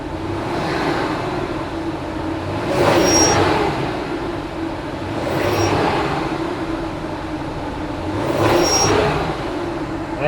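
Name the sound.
car engine revving with noise from engine bay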